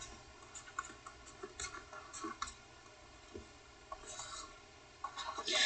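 Pen or marker scratching across paper or a board while a math answer is written out, with faint, irregular strokes and light taps over a steady background hiss.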